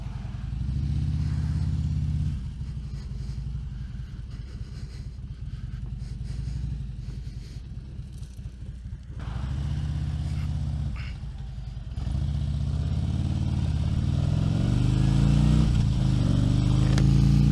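A motorcycle on a Darkside tire rides around a circle loop, its engine droning steadily for the whole stretch, the pitch rising and falling with shifts in speed and swelling toward the end, close and continuous without voices.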